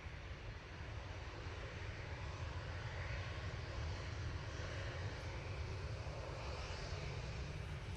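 A Ryanair passenger jet at Manchester Airport produces a faint, steady, distant engine rumble with a low-frequency drone and a continuous, even wash of noise.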